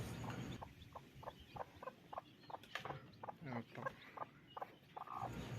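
Newly hatched chick peeping in a series of regular high chirps, soft and close, with faint background rustling.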